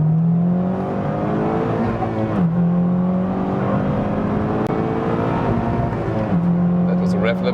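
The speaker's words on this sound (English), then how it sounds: "That was a rev limiter already." A 2016 Honda Civic Type R with a 2-liter turbo engine, 310 hp, pulls hard in second gear on the Autobahn. The loud rising engine note climbs repeatedly and hits the rev limiter, with each shift dropping the pitch.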